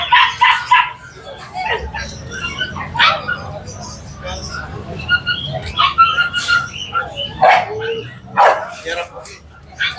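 Several guard dogs for sale at a crowded pet market bark in short, repeated bursts against steady crowd chatter, with people talking nearby throughout.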